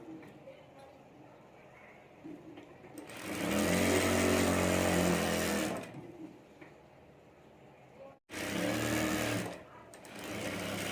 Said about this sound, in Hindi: और यहाँ भी हमें सिलाई कर देनी है।